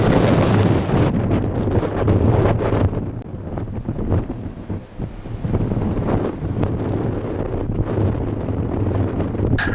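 Strong wind at Madeira airport buffets the microphone in loud, continuous roaring gusts, dipping briefly before surging again.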